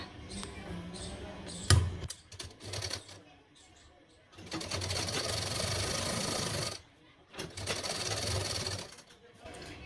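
A sewing machine runs in long steady bursts stitching a Bombay cut blouse, stopping and restarting between seams, alongside handling noises.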